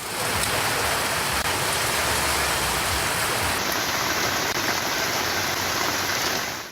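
Heavy rain pours down steadily over the Theni, Varushanadu, Mayiladumparai and Kadamalaikundu areas of Tamil Nadu, a dense, even hiss of downpour that stays loud and unbroken throughout, with no voices.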